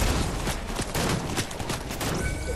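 Rapid, dense gunshots in the Fortnite video game crackle continuously with no pause, a close, loud volley of overlapping reports.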